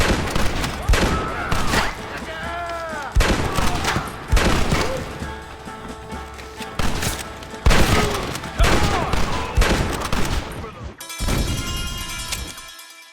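Rapid, loud gunfire in a Red Dead Redemption shootout: repeated overlapping shots and booms, close and dense, with shouting voices mixed in.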